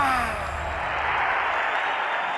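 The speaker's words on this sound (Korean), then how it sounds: "관중들의 환호가 귀를 때릴 듯이 퍼져." Loud, dense crowd roar at a boxing match, a sustained wash of cheering and clapping filling the arena without pause, close and enveloping.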